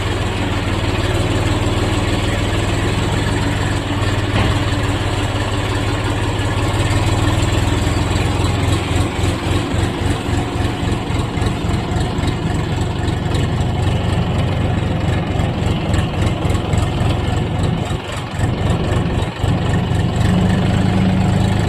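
A Bulat 244 Pro compact tractor engine idles nearby with a low, steady rumble that becomes a rhythmic chugging partway through, with no voices over it.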